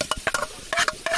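A wok sizzles and clatters in short, close bursts while food is tossed and stirred during cooking at a campsite.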